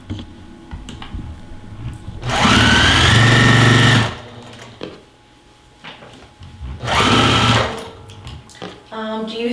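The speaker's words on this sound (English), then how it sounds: "the sewing machine is like super loud" A home sewing machine runs loudly in two bursts of rapid mechanical whirring, each lasting a couple of seconds, with quieter clicks and handling noises between.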